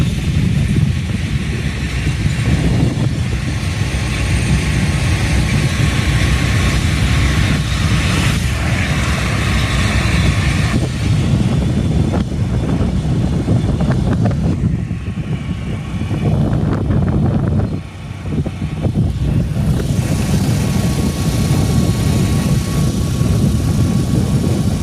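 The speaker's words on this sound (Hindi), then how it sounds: "बाइक को हर लिहाज से चेक किया जा रहा है, स्पीड में भी और स्लो भी।" A Honda Dream CD 70 motorcycle riding along a road, its engine droning loud and continuous with heavy wind rush, the tone shifting slightly as speed changes over the ride.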